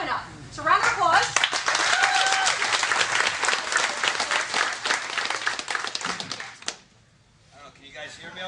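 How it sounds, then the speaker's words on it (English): A crowd applauds loudly for the founders of Tuff-N-Uff at a live event, a dense burst of clapping with cheers and voices mixed in that fades out near the end. "So round of applause."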